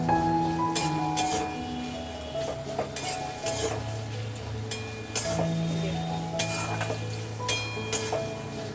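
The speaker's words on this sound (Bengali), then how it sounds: "পেঁয়াজটা একটু ভাজা ভাজা করবো" Onions frying in a pan while being stirred, with a soft sizzle beneath repeated sharp scrapes and clinks of a utensil against the pan.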